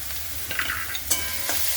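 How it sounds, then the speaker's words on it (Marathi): Spices including coriander powder, cumin powder, onion-garlic masala and red chili powder being sautéed and stirred in a pan for a soybean curry, with a few scraping stirs over a soft, steady sizzle, close and alone. "परतून घेऊ मसाले"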